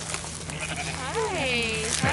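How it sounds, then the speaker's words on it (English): Sheep bleating at a ranch, several drawn-out wavering bleats rising and falling close by, with people talking and exclaiming excitedly over the animals. "Oh, look out, sheep!"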